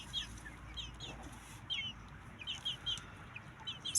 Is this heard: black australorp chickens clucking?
yes